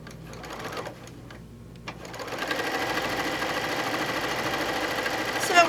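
A sewing machine stitches quilt pieces cut from layer-cake fabric squares, starting quietly and then running as a steady, close mechanical whir.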